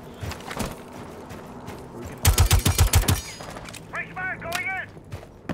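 A burst of rapid suppressed gunfire rings out in the video game Rainbow Six Siege, about six quick muffled shots in a tight volley, followed by short mechanical chirps and light game noise with faint speech in the background.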